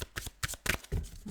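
A deck of tarot cards is shuffled in a quick burst of close riffling and flicking, with a soft rustle at the end.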